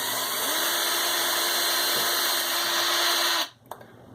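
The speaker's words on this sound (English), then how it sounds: "then I'm going to drill my starter hole" Power drill boring a starter hole while installing a Walmart Mainstays vinyl mini blind bracket, a steady close whine running about three seconds before cutting off abruptly.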